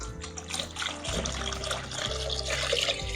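Milk whey poured into a bowl for dough, a steady liquid stream running for about three seconds, fairly close, with a low hum underneath and no talk.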